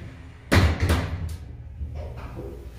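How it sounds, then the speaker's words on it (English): A Dover Impulse hydraulic elevator door in a Tucson parking garage shuts with a sharp thump, followed by a quieter knock and a low, fading hum as the car settles. "But the door close button does work."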